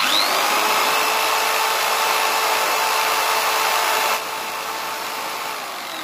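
A 220V motor spins a generator at high speed, a loud steady electric whine with a thin tonal hum, dropping to a slightly lower level near the end.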